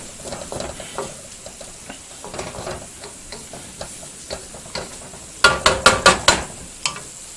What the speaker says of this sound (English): Alright, we'll give this a little bit of a stir around